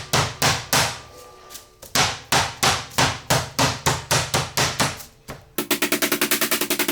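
Meat is pounded flat for cordon bleu with a steady run of heavy, loud thuds, about a dozen evenly spaced blows, then a faster burst of rapid hits at the end. No voices.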